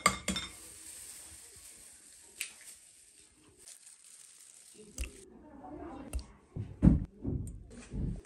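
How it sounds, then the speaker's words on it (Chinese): Eggs are cracked and whites are separated from the yolks in a kitchen, giving sparse clinks of shell on a bowl followed by a few louder knocks and wet taps close by. "现在就开始打蛋清蛋黄分离"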